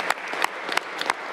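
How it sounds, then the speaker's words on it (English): Sparse applause at a Cleveland city council meeting, a few distinct claps and a brief patter of hands spread over a moderate background with no talking. "I really think that we all need to give her a round of applause"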